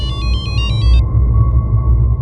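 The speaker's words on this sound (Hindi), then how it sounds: "फिर 1 महीने बाद धर्मेश का लैंडलाइन नंबर से फ़ोन आया।" A landline telephone rings with a rapid electronic trill in pulsed bursts for about a second, then stops, leaving a steady low rumble and a faint tone behind.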